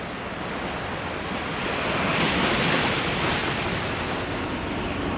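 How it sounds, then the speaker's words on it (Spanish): Rough Pacific Ocean waves and strong wind roar together as a dense, continuous wash of surf and gusts that swells slightly at midpoint and carries on with no voices. "Observa el viento que arrecia y el mar que se encrespa."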